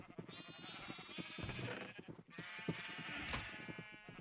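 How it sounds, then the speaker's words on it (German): Sheep bleat in the video game Minecraft on a farm, two drawn-out, quavering bleats following each other closely at low volume. "Dann schwitzen die armen Schafe bei dieser Hitze hier."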